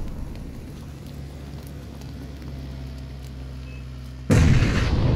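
Gunfire in PUBG: a steady low rumble of distant shots and battle noise, then a sudden loud, close burst near the end that keeps going as dense crackling gunfire.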